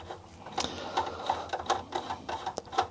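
Small machine screws being backed out of a Commodore C64U computer case, giving a run of quick, faint clicking and ratcheting ticks close up, the screws seating no harder than usual.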